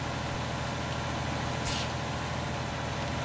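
A tractor engine in the farming game Farming Simulator 19 runs at a steady drone, a constant low rumble that stays even throughout with no talking.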